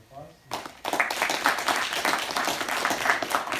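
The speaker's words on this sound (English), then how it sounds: "Let's give her another round of applause." Audience applause fills a lecture hall after a talk, steady dense clapping starting abruptly and holding at a moderate level to the end, with a brief murmur of voices before it begins.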